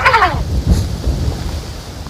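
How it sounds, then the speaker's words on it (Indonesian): Strong wind blows across an open-air spot, a loud, broad rushing roar with gusty low rumbles buffeting the microphone throughout, no voices heard. "angin kuat kanggo gerbuk ieu"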